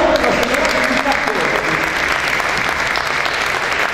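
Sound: audience applause at an awards ceremony

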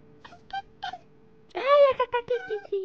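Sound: cat meowing in Minecraft video game

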